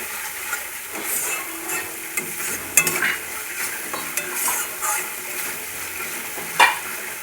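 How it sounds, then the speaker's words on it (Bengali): Katla fish in mustard sauce being stirred in a frying pan, a steady sizzle broken by intermittent scrapes and clinks of the spoon against the pan. "যেহেতু সর্ষে আছে তাই 2-4 বার নেড়েই জল দিয়ে দেবো।"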